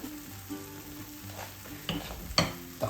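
Maruya banana fritters frying in a pan of oil, a steady close sizzle with a few sharper pops and crackles and light utensil stirring, no voices.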